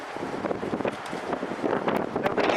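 Gusty evening wind buffets the microphone in uneven, rumbling bursts throughout at Fort Bragg, with no clear voices.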